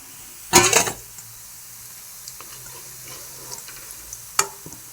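Chana dal dhoka frying in oil, a short loud burst of sizzle and splash near the start, then low bubbling with a sharp clink later, close and without talk.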